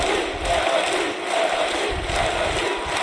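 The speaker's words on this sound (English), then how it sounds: "the crowd is on its feet" A big esports arena crowd roars in a dense, sustained wall of cheering and shouting after a clutch round in a match involving Astralis, loud and unbroken with no clear talk.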